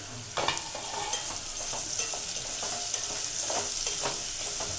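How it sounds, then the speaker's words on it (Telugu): Chopped green chillies stirred in a frying pan for egg biryani, with a steady sizzle under repeated scraping strokes of the spoon against the pan, close and clear, no talking. "యాడ్ చేసుకున్నాక మంచిగా మిక్స్ చేసుకోవాలి."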